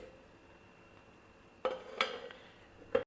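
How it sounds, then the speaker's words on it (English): A pressure cooker of cooked dal is opened in a home kitchen: a few sharp metallic clanks and knocks of the lid against the pot, close and distinct over a quiet room hum, no voices. "open the cooker and see"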